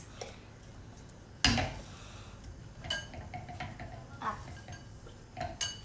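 A spoon stirring gluten-free brownie mixture in a pot, scattered scrapes and clinks against the metal at an uneven pace, close but quiet, with low talk in the background.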